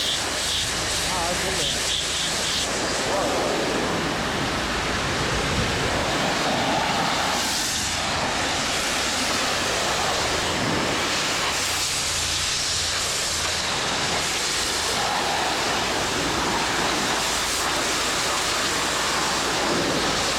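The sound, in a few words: pressure washer spraying with rinse tip, house wash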